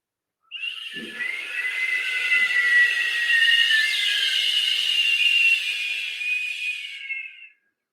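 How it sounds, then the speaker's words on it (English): A long, steady breath is exhaled as a mouth whistle during a Kundalini yoga breathing practice, a single sustained high tone lasting about seven seconds and heard alone. "the exhale is through a whistle through the mouth. So whistle."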